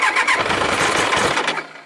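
A 1999 Triumph Trophy 1200 motorcycle cranks and fires up, a dense, loud burst of engine noise with a squealing edge that holds steady for nearly two seconds before cutting back.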